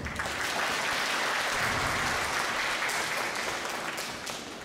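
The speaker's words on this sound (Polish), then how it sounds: "Brawa dla niej!" Applause from an audience at a live event, steady dense clapping held for several seconds and easing off slightly toward the end.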